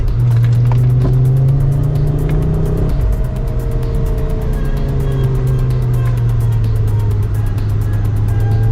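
A car lapping a race track during a driving initiation session, its engine droning loud and steady close up, with pitch shifts as it accelerates and eases through corners, alone without talk.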